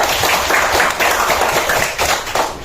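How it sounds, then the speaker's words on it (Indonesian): Classroom applause for a student group, a brief burst of many hands clapping quickly and closely together, loud and near, with no talk over it. "Oke, tepuk tangan untuk kelompok 2."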